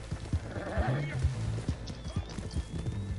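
Rapid galloping hoofbeats with a horse whinnying in the video game Red Dead Online, while people talk over the steady drumming of hooves.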